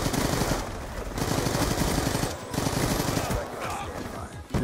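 Rapid automatic gunfire from a Call of Duty Black Ops 2 multiplayer match, dense bursts of shots rattling almost continuously and loud, with a brief pause partway through before firing resumes.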